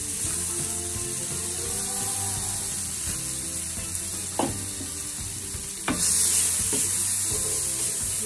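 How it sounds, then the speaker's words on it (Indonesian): Blended chili paste hits a pan of shallots and sizzles steadily, with a bright, constant frying hiss and occasional scrapes of stirring, no voices present. "kita tinggal masukkan cabai yang sudah kita blender tadi"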